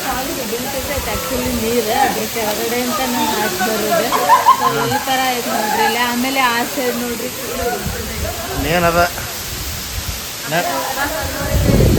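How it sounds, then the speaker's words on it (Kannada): A roaring waterfall at Amboli, India, fills the background with a constant hiss of rushing water while people talk over it. "ನೀರು ಬೀಳಂತಾವ ಫುಲ್"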